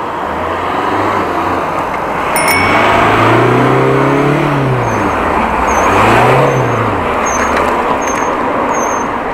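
A car beside a cyclist in traffic revs loudly, its engine pitch rising and falling in repeated surges, with steady road and wind noise throughout.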